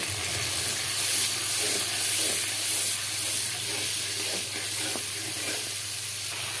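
Blended onion and garlic paste fries in hot oil for a chicken and papaya curry, making a loud, continuous sizzling hiss with steamy spatter and faint stirring, close up and without talk.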